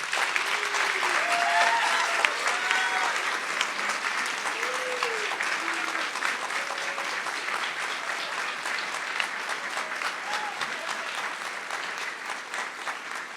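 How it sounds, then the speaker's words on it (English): Sustained audience applause at a Kent State spring commencement ceremony, a dense, steady wash of clapping from a large crowd lasting throughout, with faint voices briefly audible over it. "please join me in giving them a round of applause."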